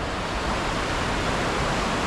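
A river flowing beneath tree branches in the mountains of Andorra, heard as a steady, dense broadband rush of water that stays even and fairly loud throughout, with no voices over it.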